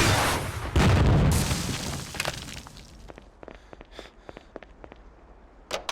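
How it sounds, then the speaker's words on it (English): An anti-tank rocket fired in the video game Ghost Recon bursts into a loud blast about a second in, followed by scattered crackling debris and faint pops that fade away. "If you fire a rocket when there are friendlies standing behind you"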